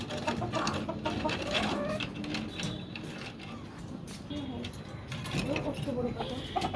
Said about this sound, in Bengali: এখানে কিছু দেশি মুরগি আছে